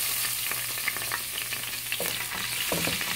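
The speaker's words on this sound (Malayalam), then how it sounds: "ഇഞ്ചി ഇടുന്നു." Chopped ginger frying in hot oil in a pan, giving a loud, continuous sizzle with scattered clicks and scrapes from stirring throughout.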